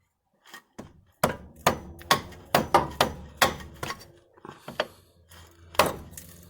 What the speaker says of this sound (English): you're just going to want to take a hammer and pop it off